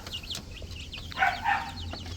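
One-month-old Rhode Island Red chicks give a few short high cheeps over a low steady hum. The chirps are close and fairly faint, with a couple of brief louder calls near the middle.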